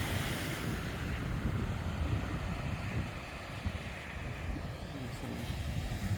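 Wind buffets the microphone in steady, broadband roars at a choppy shoreline in Western Australia, with waves washing in underneath.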